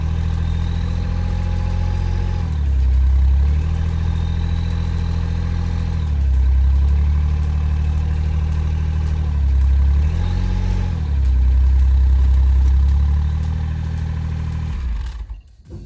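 A Daihatsu Atrai Wagon engine with over 110,000 km, burning a lot of oil, idles with an abnormal noise: a steady low hum with a ticking clatter, the revs rising and falling a few times before it cuts off at the end.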